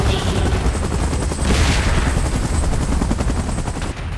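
A helicopter arrives for an evacuation in a PUBG video game event mode, its loud rapid rotor chop pounding throughout alongside bursts resembling gunfire.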